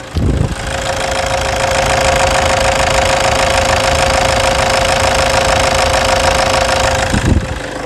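A 2008 Toyota Hilux 2.5 diesel pickup engine idles close by, a smooth continuous rumble with a faint knocking texture, running evenly throughout with no voices.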